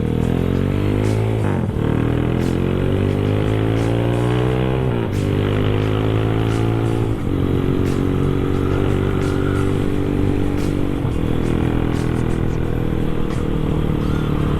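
A Kawasaki Ninja SS motorcycle engine idles and revs up and down in bursts, loud and close, with a steady low rumble and occasional mechanical clatter.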